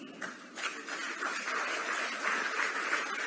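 Audience clapping builds quickly and holds steady, a full room of applause at a ceremony handing out community health officer appointment letters, with the sound staying fairly close and even.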